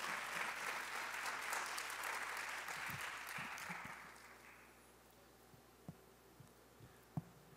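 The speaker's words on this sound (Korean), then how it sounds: "우리 함께 박수하면서 강사님 모시겠습니다." A church audience applauds to welcome a guest pastor at a winter retreat worship service, steady broad clapping for about four seconds that then fades out, leaving a quiet room with a few scattered thumps.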